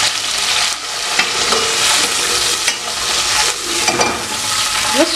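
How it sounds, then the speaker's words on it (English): Liver fries in a cooking pan, a loud continuous close sizzle with scattered crackles and occasional stirring scrapes throughout. "Just fry it a little bit."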